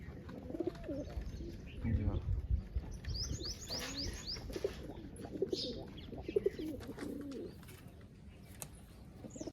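Soft pigeon coos and chirps repeat near a window at night, against a steady low background rumble and occasional faint rustles.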